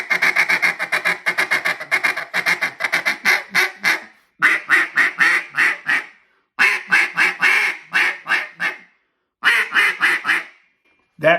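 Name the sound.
duck call blown for a loud feed call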